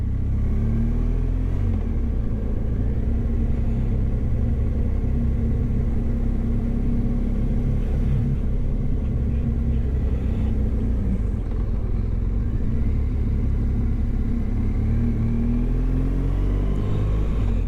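Sports cars such as a Porsche or Maserati driving on an Austrian road, heard as a steady loud engine rumble with wind noise, mixed with the drone of a motorcycle following behind, continuous with no talk.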